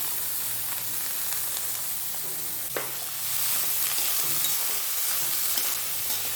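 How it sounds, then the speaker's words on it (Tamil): Chopped onions sizzle and fry in hot oil in a kadai while being stirred for tomato rice, with a steady crackling hiss, an occasional scrape of the spoon, and no talk over it. "வெங்காயம் நல்லா வதக்கணும், ஒரு கோல்டன் ப்ரௌன் கலர் வர அளவுக்கு நல்லா வதக்கி எடுக்கணும்"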